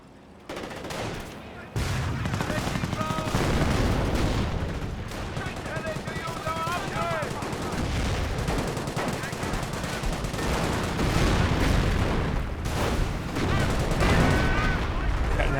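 Artillery barrage in Company of Heroes 1, with repeated heavy booms and crashing impacts over rapid gunfire, loud and dense after a quieter opening, with a voice talking intermittently over the battle.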